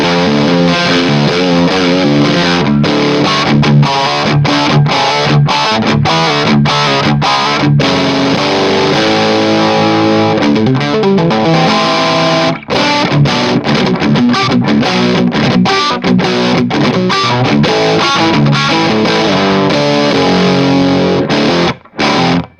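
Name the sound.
electric guitar through Mooer Black Secret distortion pedal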